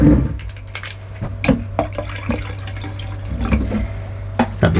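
Water poured into a flower vase holding plants and flower food, a short burst of splashing and trickling with scattered drips, close and moderately loud, with no voices.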